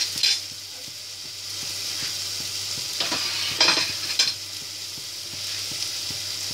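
Turmeric, chili, salt, homemade garam masala and peeled tomatoes sizzle steadily in a pan for a Punjabi chole tarka, with a few sharp scraping stirs on top, close and alone without talk.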